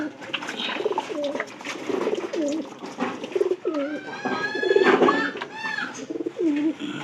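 Domestic pigeons cooing repeatedly at close range, with the low, throaty, rolling calls overlapping one another and rising and falling throughout.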